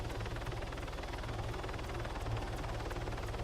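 A helicopter heard from inside, its rotor thumping in a fast, even pulse over a dense, steady engine drone that fills the cabin without a break.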